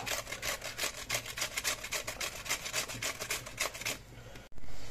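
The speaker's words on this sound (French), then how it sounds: "Et maintenant je râpe mon concombre, hein, sur ma râpe, la même râpe, hein, sur les gros trous." A cucumber grated on the large holes of a metal box grater for cold beet soup: steady rapid rasping strokes in a fast rhythm, close and clear, stopping near the end followed by a brief thump.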